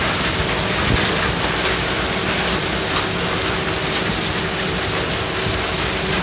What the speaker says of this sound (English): We got hail now.